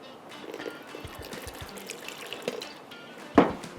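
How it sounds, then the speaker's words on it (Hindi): Water is sprinkled lightly by hand over naan dough, making soft, faint dribbling and pattering with one sharper splash near the end, close by in a quiet kitchen. "थोड़ा सा आपने पानी ऊपर इस तरीके से हल्के हाथ से इस पर यूँ करना है"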